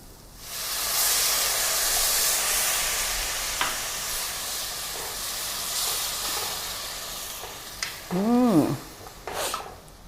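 A steady hiss of about a cup of water sizzling, boiling and steaming in a hot pan of white gravy, with a few brief scrapes and clinks near the end.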